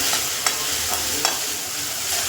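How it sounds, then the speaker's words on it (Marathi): Mustard seeds, ground green chilli and ginger sizzling in hot oil for a samosa filling, a close continuous crackling fry with a few sharp pops and stirring sounds. "आता मोहरी टाकायची आणि आपण ही मिरची आणि अद्रक वाटलंय ना ते टाकायचं."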